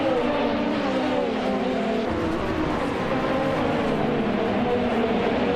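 A 2014 Abarth 500 race car in a racing video game drones steadily at high revs, a loud continuous engine note with no talk over it.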